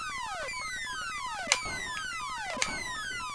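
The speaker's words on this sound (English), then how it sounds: "I used to have an alarm clock that sounded like this" Electronic alarm from a video game: repeated falling synthetic sweeps cascading downward, each cycle ending in a sharp bright click, looping steadily like an old alarm clock with no voices.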